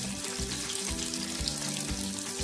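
Chopped onion fries in hot oil in a pan, giving a dense, even, hissing sizzle that holds steady and close throughout.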